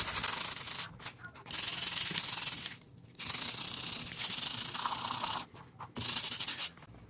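Someone scrubs the knurling of a Texas Power Bar in close, rough rubbing strokes, working in several bursts separated by short pauses, with faint background murmur.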